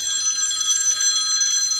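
A telephone rings steadily and clearly for the whole stretch, a bright electronic ringing tone at moderate loudness with no talking over it, picked up indoors in a home kitchen during a cooking stream.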